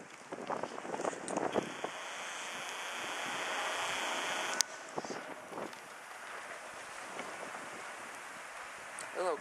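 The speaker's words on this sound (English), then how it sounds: "Whoa, is it windy?" Strong wind blows through a snowstorm over drifted snow, roaring steadily as broadband buffeting on the microphone with gusts and a sharp jolt midway.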